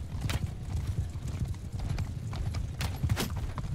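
Horses gallop in Mount & Blade II: Bannerlord, a dense, quick clip-clop of hooves with rhythmic thuds and clatter, fairly close and steady throughout.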